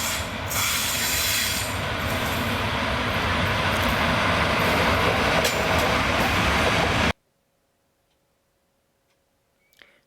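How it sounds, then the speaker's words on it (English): Venerable E656 electric locomotive hauling a light four-coach train from Syracuse to Messina arrives at Catania Centrale, with loud continuous rumble and wheel clatter that cuts off abruptly into near silence for the last few seconds. "we see a venerable E656 arrive from Syracuse en route to Messina, with a lightweight 4-coach train"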